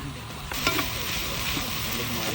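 Sisig fries with little oil in a pan at a camping spot, a constant close sizzle with light scraping and clicks from a spatula as it is stirred.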